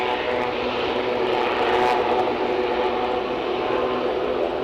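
A steady engine drone from a helicopter overhead at Aberdeen heliport, loud and continuous with a slight swell near the middle.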